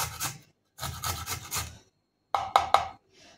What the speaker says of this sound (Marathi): इथे आलं मी बारीक किसून घेते